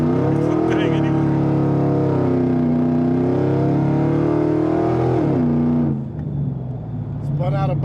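A car with too much power and a light rear end spins its wheels on a slow launch, the engine roaring loud and steady for several seconds before the revs drop sharply and then climb again.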